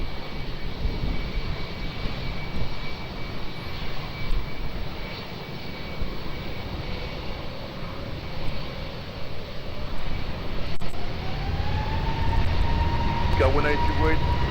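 An airliner takes off from runway 20 at Lisbon Airport, its jet engines producing a loud, sustained roar that builds steadily toward the end, with a rising whine appearing late.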